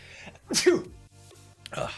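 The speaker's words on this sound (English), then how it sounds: "I have to sneeze, so hang on a second" A single sharp sneeze bursts out, followed by a brief breathy sound, fairly close and alone with no talk.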